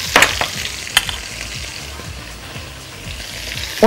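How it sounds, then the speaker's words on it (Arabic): Rice being fried in butter with salt and pepper, a steady soft sizzle with sharp crackles and pops near the start and a few more bursts, close and alone without talk. "انا حطيت زبده وهبتدي احط الرز بتاعي، ياخد تحميره كده سريعه مع شويه ملح وفلفل"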